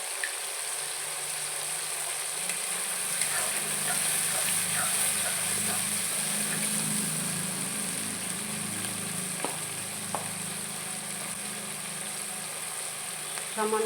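A paste of ground cumin and chili, with salt and turmeric, sizzles and fries in a pan, a steady close hiss throughout with occasional stirring scrapes and faint low background noise.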